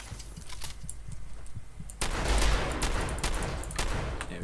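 Combat shotgun fire in Fallout 4, sharp gunshot bursts with faint clicks early on, then a louder sustained barrage of blasts and rumble in the second half.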